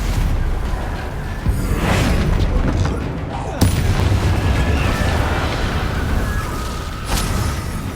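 Confringo blasting spell explosions in Hogwarts Legacy, loud booming blasts that keep coming in a dense, rumbling battle, with sharp bursts near the start, middle and end.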